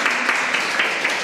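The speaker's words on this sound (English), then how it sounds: "applause." An audience at a dance teacher forum claps together in a brief, dense burst with a light rhythmic pulse, fairly close and even in loudness.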